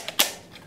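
A single sharp gunshot from a Swiss K31 surplus rifle cracks out once at moderate loudness, then decays quickly into quiet.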